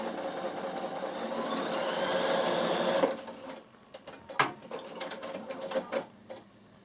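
A Bernina sewing machine stitches through stiff fabric at a steady pace and then back stitches before stopping, followed by quieter clicks and fabric handling.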